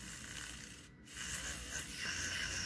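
A hand drill slowly widens an existing hole in a plastic leg part of an entry-grade Build Strike Exceed Galaxy model kit, giving a steady, close, raspy grinding that briefly pauses midway before resuming, with no talking.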